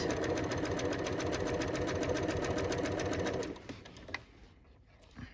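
A sewing machine stitches a seam on an upcycled denim jacket, a fast steady mechanical whir with rapid needle clatter that runs for a few seconds, then stops, leaving quiet handling noises.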